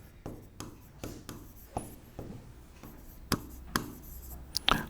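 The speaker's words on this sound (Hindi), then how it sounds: "मैं लिख देता हूं नाम" Chalk or marker strokes on a classroom board during a Hindi-language organic chemistry lesson, a run of scratchy taps and short rubbing strokes with uneven rhythm, close and moderately loud, with no talking.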